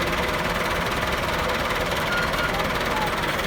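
An MF 375 tractor engine drones steadily at a constant rumbling pitch, close and continuous throughout, after being pulled free by an MF 385 tractor.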